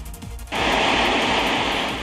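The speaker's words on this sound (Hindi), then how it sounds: "भारत ने उरी बांध से अचानक बहुत ज्यादा पानी छोड़ दिया" Water released from the Uri dam rushes in a loud, steady roar that starts abruptly and then holds continuous and close for the rest of the moment.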